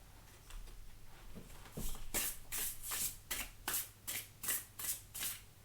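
Oracle cards are shuffled by hand in a rhythmic series of crisp riffling bursts, about eight or nine close, evenly spaced strokes over a faint low hum, with no talking.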